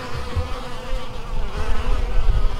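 Honeybees around an urban backyard beehive in Edmonton fill the air with a dense, continuous buzzing drone, close and steady, with individual bees swelling louder as they pass nearby.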